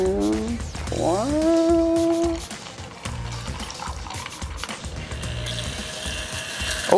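Ginger beer is poured from a bottle into a gin cocktail resting on a smart coaster, a close, steady liquid glug and splash; a brief rising tonal sound comes first, then the pour runs on for several seconds.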